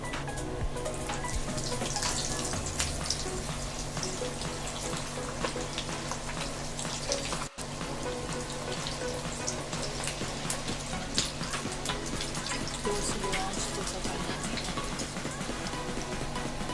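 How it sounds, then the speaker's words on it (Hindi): Chicken lollipops frying in hot oil in a kadhai over a low flame, a steady dense crackle and sizzle running throughout with continuous fine popping, close and even in loudness. "अब हम चिकन लॉलीपॉप फ्राई करेंगे। तो चलिए चिकन लॉलीपॉप फ्राई करते हैं।"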